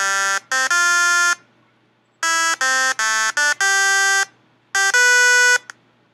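Quadcopter motors driven by their ESCs play a composed melody of loud, buzzy electronic tones in short rhythmic phrases at changing pitches, with silent gaps between groups of notes.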